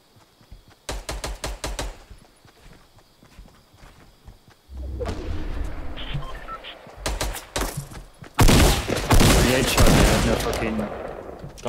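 Gunfire from Fortnite Battle Royale: rapid bursts of automatic and single shots, loud and close, in several clusters with pauses between them and heavy firing toward the end.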